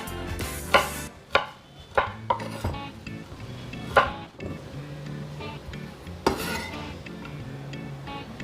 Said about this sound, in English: Slice the ginger as shown.